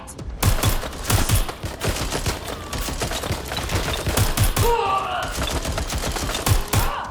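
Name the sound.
gunfire in Watch Dogs: Legion video game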